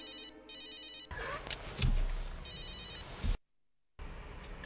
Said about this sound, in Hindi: तेरा फोन बज रहा